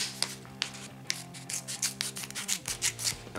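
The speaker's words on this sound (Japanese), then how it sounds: "開けにくいので、ハサミをね、持ってきました。" Scissors cut open a plastic bag of Razzles candy up close, a quick series of crisp snips and crinkling rustles over a faint background hum.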